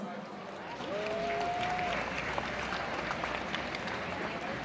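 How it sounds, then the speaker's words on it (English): Audience at the Hornbill Festival arena applauding cultural troupes, a steady broad wash of clapping that swells after a quiet start and holds, with a brief tonal whistle-like sound early on. "Shall we give all our cultural troupes an encouraging round of applause?"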